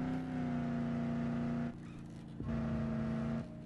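Engine of a truck driven in the video game Dead Island Definitive Edition, a steady droning hum that cuts out briefly and resumes, moderately faint with no voices over it.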